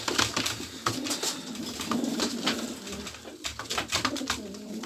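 Polish show racing pigeons coo repeatedly in soft, throaty bursts, close and continuous, with some rustling in the background.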